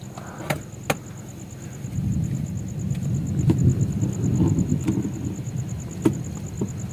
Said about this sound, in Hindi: बादल गरज रहे हैं काफ़ी ख़तरनाक।